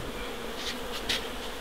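Bees buzzing near an observation hive during a colony transfer, a faint continuous hum with a few louder passes as individual insects fly close.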